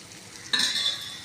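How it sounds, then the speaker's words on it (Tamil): More oil poured into a hot cooking pan, a sudden close sizzle and hiss breaking out of quiet and holding steadily to the end. "இன்னும் கொஞ்சம் எண்ணெய் ஊற்றிக்கிறேன்"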